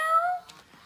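A Hasbro Joy for All robotic toy cat gives one short electronic meow with a wavering, whistly tone, close and clear, fading out within a second.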